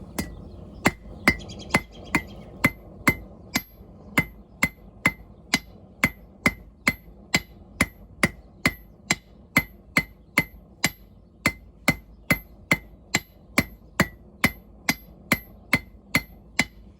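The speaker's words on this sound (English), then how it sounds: "It's always nice to get yourself into a rhythm when you're using a hammer." A hammer strikes hot steel in a steady, even rhythm while forging a blade tang, around thirty sharp ringing blows in a row, close and loud, without any speech.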